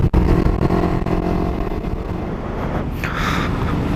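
A Kawasaki Ninja 250 FI engine hums steadily while being ridden, with wind noise buffeting the microphone and a slight rise in revs near the end.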